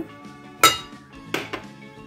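Coconut croquette dough with lemon zest and sugar being mixed in a bowl, giving a few short, bright clinks of a utensil against the bowl, close and separated by soft scraping.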